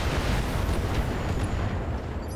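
Weapons fire from BattleTech mechs, with the Wolverine among them, rolls out as a dense, sustained low rumble of blasts lasting a few seconds with no distinct individual shots.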